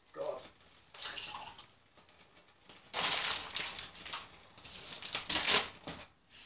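A cooking pan being scraped and wiped clean in a home kitchen, with scattered clattering and scrubbing bursts that grow louder in the second half, fairly close and with no talk.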